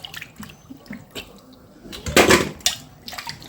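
Sweet colocasia (taro) being washed by hand in water, with several splashing, sloshing bursts, the loudest one in the middle, mixed with faint background noise.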